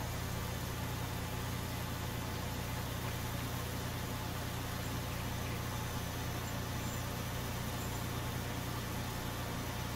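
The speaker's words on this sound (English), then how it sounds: "God, I love the sound of this old tractor when it starts up." An old tractor engine idles steadily in Farming Simulator 19, a constant droning rumble with no breaks, loud and close, with no talking over it.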